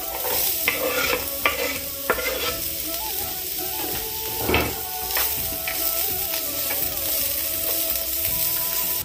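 Chopped onion and green chili sizzle steadily in hot oil for a bread cutlet filling, with repeated spoon scrapes and stirring knocks close by and no talking.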